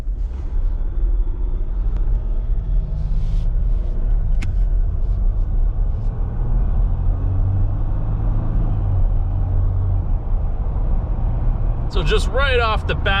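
A 2020 Jeep Wrangler JL EcoDiesel is driven, heard from inside the cabin as a steady, loud, low engine and road rumble with a few light rattles, while someone talks briefly near the end.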